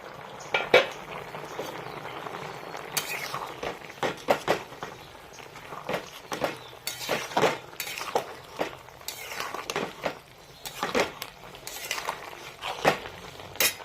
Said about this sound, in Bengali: আমি ঢাকাটা তুলে নিচ্ছি